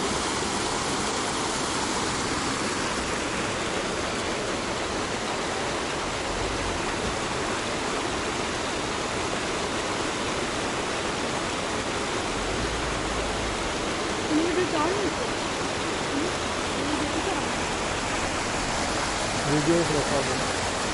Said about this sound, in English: I climbed up this hill to get a closer video of the waterfall, Ushu Waterfall.